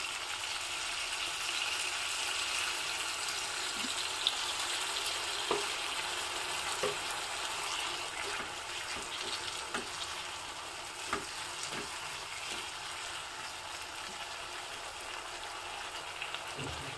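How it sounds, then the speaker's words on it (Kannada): Tamarind juice poured into brinjal frying in oil for a brinjal rice dish, a steady close sizzle and crackle with scattered pops throughout, no talking. "ಈಗ ಇದಕ್ಕೆ ಹುಣಸೆ ರಸವನ್ನು ಹಾಕ್ತಾ ಇದ್ದೀನಿ"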